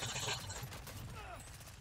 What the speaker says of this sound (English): Get my shotgun out.